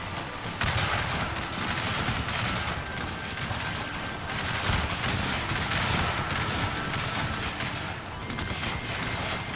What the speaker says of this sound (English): And a nice volley off to start.